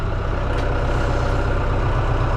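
A YTO NLX 1054 tractor's engine runs steadily at idle, a loud continuous low diesel rumble with no other sounds.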